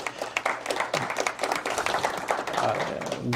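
A crowd breaks into brief applause, with scattered clapping building to a moderate level.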